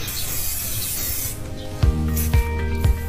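Anti-rust liquid is sprayed onto a Honda Vario frame from an aerosol can, giving a close hissing spray. Three sharp, ringing metallic taps follow near the end.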